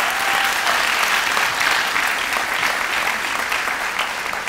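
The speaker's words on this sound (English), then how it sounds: "a huge round of applause to the public relations team that works to put this event together every year" Sustained applause from an audience at an annual employee recognition celebration in Peoria, dense and steady for the whole stretch, with no voices standing out above the clapping.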